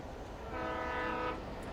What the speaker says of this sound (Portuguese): O trem.